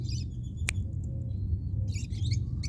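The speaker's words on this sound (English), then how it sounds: "If you can hear the birds" Small birds, likely canaries, give a few faint high chirps and tweets at a distance over a steady low hum, with no talking.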